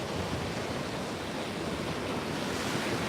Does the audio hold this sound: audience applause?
no